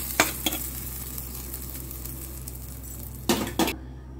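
Mustard seeds and urad dal sputter in hot oil as a tempering for thuthuvalai thuvaiyal, giving a faint continuous sizzle with a few sharp crackles and pops near the start and toward the end.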